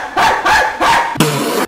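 A dog barks three times in quick succession inside a video game, each bark loud and close, followed by a short yip at the end with no talk over it.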